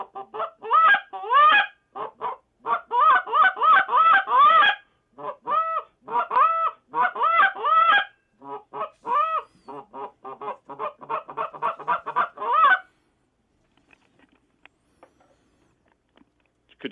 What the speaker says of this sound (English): Yeah, I have a goose call.